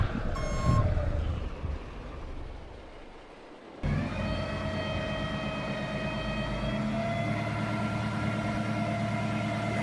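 Vehicle backing up in Farming Simulator 22, with steady high reversing beeps over a low engine drone and rumble, continuous and fairly loud after a brief quieter stretch, with no talking.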